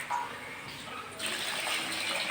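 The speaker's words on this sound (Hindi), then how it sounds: "और अब हम इसके अंदर डालते हैं पानी।" Water gushes from a tap or jug into a pot of rice being washed for vegetable pulao, a soft steady pour that turns brighter and fuller halfway through.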